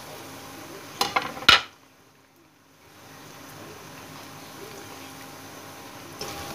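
Chopped onions tipped into a hot cooking pan for mash ki daal, with a brief clatter of utensils against the pan followed by a steady, soft sizzle.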